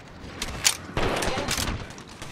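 Rapid bursts of gunfire from the video game Apex Legends, a few quick shots followed by a sustained volley of fire, loud and close in the game mix with no talking.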